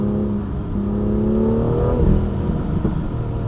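A BMW M2 engine in Sport Plus mode revs and climbs in pitch, a throaty exhaust roar building then dropping with a rough crackle and pop, loud and close.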